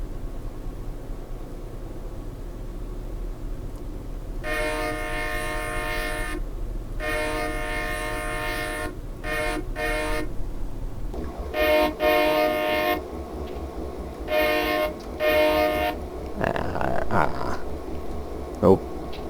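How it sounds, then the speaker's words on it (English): Locomotive horn from Train Simulator Classic's Alaska Railroad route, sounding in several loud sustained blasts of varying length that break off abruptly with no tail, over a low steady engine rumble. "There's no end loop whatsoever to the horn, so it sounds wrong"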